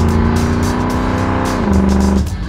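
A 2015-2017 Ford Mustang GT V8 with a Borla exhaust holds a loud, deep, steady rumbling idle-rev that drops in pitch near the end and then fades, close up with no talking.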